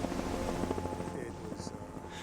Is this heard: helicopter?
yes